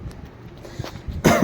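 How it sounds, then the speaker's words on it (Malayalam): A single person coughs, with a few faint throat sounds first and then one loud, sharp cough near the end, close up and alone without talk. "കണ്ടോ, ചുമയാണ്."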